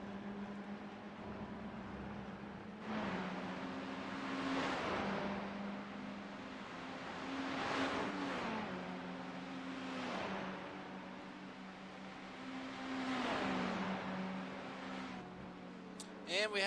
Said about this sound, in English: So tons of cars out on track.